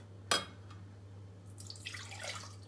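A sharp clink followed by a short splash of liquid being poured into a pot, over a low steady hum; no talking.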